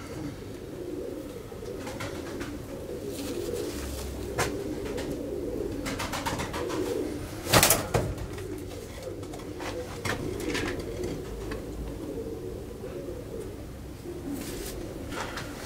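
Racing pigeons coo steadily in a loft, a soft continuous burble of overlapping calls with a brief louder flurry midway.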